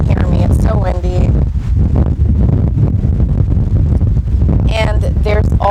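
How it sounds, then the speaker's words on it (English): Heavy outdoor wind buffets the microphone with a loud, continuous low roar throughout, while a voice talks over it in bursts. "It's so windy."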